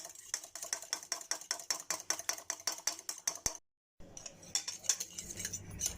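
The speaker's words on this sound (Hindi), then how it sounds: "एक अंडा ले लें, उसको आप फेंट लें अच्छे तरीके से, ऐसे ऐसे फेंट लें।" An egg is whisked briskly with a utensil against a bowl, a fast steady run of light clinking taps that pauses briefly, then starts up again.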